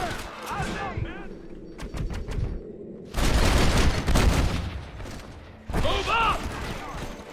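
Gunfire in Red Dead Redemption: loud, dense volleys of shots in bursts, crackling between shouted voices as characters yell during a firefight.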